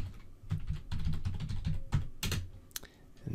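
Quick, uneven keystrokes on a computer keyboard enter a password while configuring SNMPv3 on a Cisco switch, a close run of soft clicks with brief pauses and a few sharper taps near the end.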